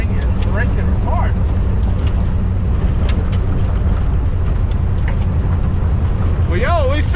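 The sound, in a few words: 1957 Ford Fairlane 312 V8 engine running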